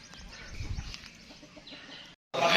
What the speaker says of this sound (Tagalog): Doon pa may manok pa oh.